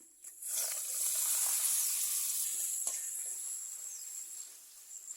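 Papadam fries in hot oil with a steady, bright hiss and crackle that swells after a moment and holds, close and continuous, with no talking.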